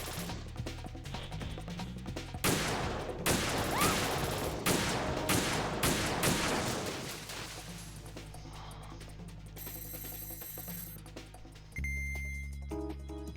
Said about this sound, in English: Oh my god, who's shooting at you?